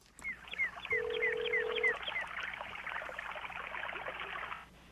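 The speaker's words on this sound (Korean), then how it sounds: "전화 연결 한번 해보도록 할까요" On a radio show, a quick run of telephone dialing tones followed by a short steady tone, then a faint busy texture of electronic blips that fades out.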